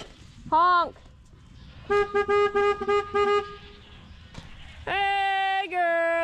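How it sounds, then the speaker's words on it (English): Vehicle horn honking during a goat check in the rain: one short toot, a series of rapid staccato beeps, then two longer sustained blasts, loud and close, with quiet background noise between them. "Honk."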